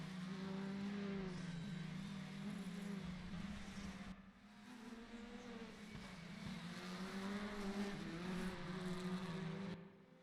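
Race cars, an Audi and an Alfa Romeo, at Bathurst in the RaceRoom racing game give off a steady engine drone with rising and falling pitch as the cars shift gears and close in, at a faint level.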